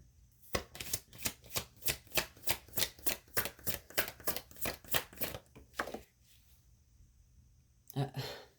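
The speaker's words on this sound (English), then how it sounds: "Let me get one more card" Tarot cards shuffled and drawn from the deck: a close, steady run of about twenty brisk papery strokes for several seconds, then a pause before a short final rustle.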